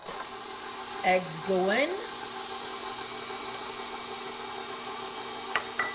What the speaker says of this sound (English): And now let's get it under the KitchenAid.